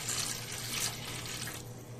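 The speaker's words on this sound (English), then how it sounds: "But first we're going to do is add some water." Water poured steadily into a pan while a pork roast is being prepared, a continuous close hissing splash that eases slightly toward the end.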